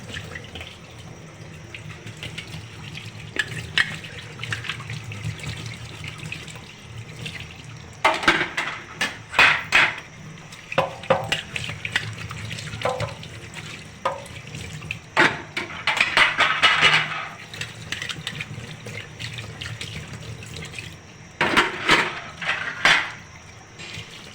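Idli plates and a lid are washed under running tap water, a steady near stream broken by louder splashing bursts as the metal pieces are rinsed and handled, with no talk.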